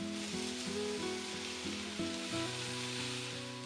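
Beef skewers sizzle steadily on a lightly oiled grill pan over high heat, a dense continuous frying hiss with no voices, while tonal music runs underneath throughout.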